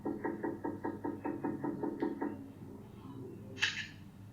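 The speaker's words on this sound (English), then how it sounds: "This doorbell video shows a young man approaching the door, knocking on it, and then waiting for the owner." A young man raps on a front door about ten times in a steady, even rhythm, the knocks close and clear, then stops; a brief higher scrape or click follows after a short pause.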